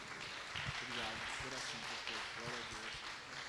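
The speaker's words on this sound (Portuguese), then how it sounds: "Glória, aplauda ao Senhor" A church congregation claps for the Lord during an evening service, a faint, dense wash of applause running throughout with voices talking over it.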